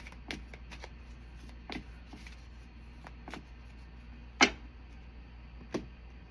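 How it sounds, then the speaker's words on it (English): Tarot cards being shuffled by hand at close range give soft, papery riffles and sharp snaps, with one louder crisp flick near the end, in a quiet room with no talking. "Maybe it's just because I'm not shuffling good enough."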